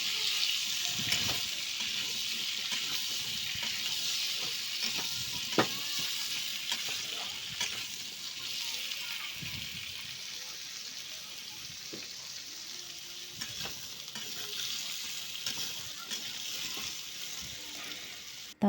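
Food frying in a home kitchen pan, with a steady loud sizzle and intermittent scraping and clinking as the pieces are stirred slowly; no talking.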